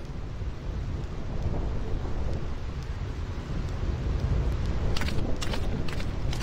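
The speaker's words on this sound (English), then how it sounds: "This storm never stops." Stormy weather in the video game Final Fantasy X, with steady heavy rain and rolling rumbles of thunder building toward sharper crackles near the end.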